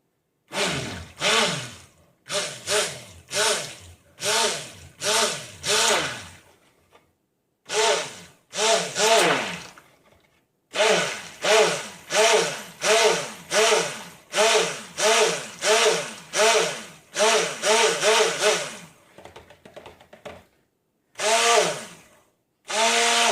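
A blender motor whirs in repeated pulsing bursts, its pitch swooping up and down with each surge as thick coconut oil soap mixture churns, with short pauses between runs.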